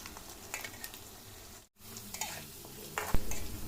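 Potato fritters sizzle steadily in hot oil as a utensil stirs them and scrapes the pan with clinks and taps, close and fairly quiet. A brief silent gap comes midway.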